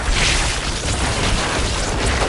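The necromancer's Corpse Explosion skill in Diablo 4 makes a loud, continuous roar of overlapping booms and bursts that fills the whole stretch without pause.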